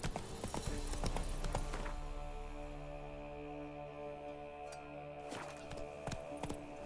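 In The Witcher 3, a horse gallops in rapid, close clip-clop hoofbeats, loud at the start, easing in the middle and picking up again, with a sustained musical drone underneath.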